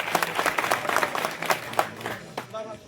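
A crowd at a village gathering in Brahmagaon breaks into applause for a donation, a dense run of clapping bursts with voices mixed in underneath.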